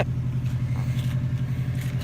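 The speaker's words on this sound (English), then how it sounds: "I turned on the Subi for you." A Subaru WRX engine runs at a steady idle nearby, a low throbbing rumble with an even pulsing rhythm and no talk over it.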